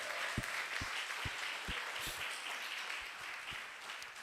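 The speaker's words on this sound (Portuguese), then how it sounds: "Vamos aplaudir o Senhor Jesus?" Applause from a church congregation during a Sunday morning worship service, a soft steady wash of many hands with a few sharper, louder claps standing out at regular intervals, moderately distant and fairly quiet.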